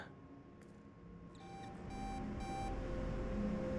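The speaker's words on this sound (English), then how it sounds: "Sound the alarms." An alarm in the video game Starfield sounds as repeated electronic beeping pulses that grow louder over a humming, droning background, with no talk.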